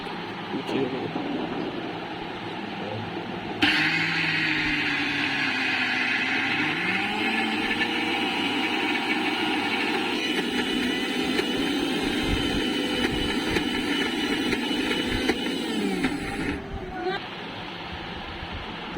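Kitchen blender grinding two kinds of lentils: a loud, steady whirring drone starts abruptly, runs unbroken for about thirteen seconds with shifting pitch, then cuts off, with faint background sound before and after.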